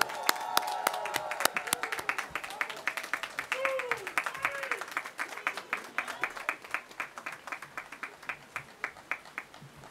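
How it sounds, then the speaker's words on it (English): Steady clapping from an outdoor university commencement crowd in the rain, dense at first and thinning to sparser, rhythmic claps, with a brief voice calling out early on. "Please join me in a round of applause as he comes to the stage."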